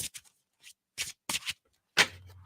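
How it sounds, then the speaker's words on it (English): Tarot cards are shuffled by hand in short, brisk bursts of riffling and rubbing with brief pauses between, close and fairly quiet. "Do a little shuffle."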